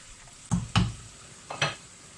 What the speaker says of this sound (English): Stir that in. Right, good stir in. Put that into the sauce.